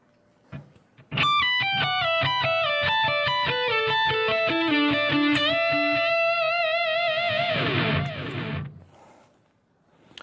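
A slow, sustained distorted electric guitar metal solo line with held, bending notes over a steady muted pulse, ending in a long fading squeal.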